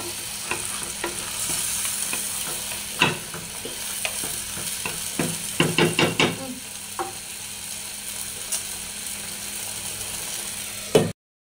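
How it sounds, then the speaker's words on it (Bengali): Goat head curry with chana dal sizzles in a pan while a spoon stirs it, with scattered scraping clicks and a quick burst of clatter midway over a constant frying hiss. "এগুলাকে নাড়াচাড়া করে দিব আর একটু কষাবো"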